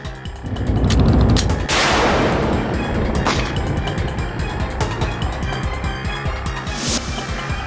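Gunfire in a courtroom thriller drama: a loud burst of shots with sharp broadband cracks and booming low rumble, followed by a sustained tense roar and another crack later on.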